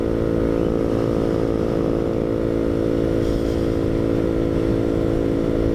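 A 125cc KTM motorcycle rides along on a cold day, its engine droning loud and steady at close range with a rough, buzzing hum throughout and no talk.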